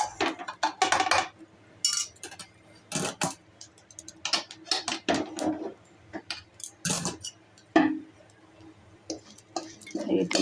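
A fish mixture is stirred in hot oil in a pan for a fried fish dish, giving irregular clinks and scrapes of the utensil against the pan with a voice speaking intermittently between them.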